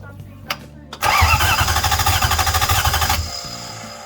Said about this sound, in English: Can you go inside and try cranking it, please?